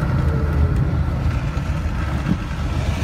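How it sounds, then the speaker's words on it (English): A small open electric car approaches on a windy, chilly day, its quiet hum blending into a steady low rumble of wind and road noise with no voices. "and here comes the car."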